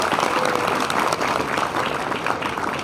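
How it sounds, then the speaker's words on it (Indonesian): Audience applause at an Islamic talk show honouring two guest speakers, a dense, steady wash of many hands clapping at close range with no one talking over it. "Tepuk tangan semuanya untuk 2 narasumber kita."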